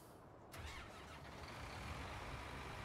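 A repaired tractor engine cranks and starts in Farming Simulator 19, a sudden burst at half a second settling into a steady, close, rumbling idle with no talk.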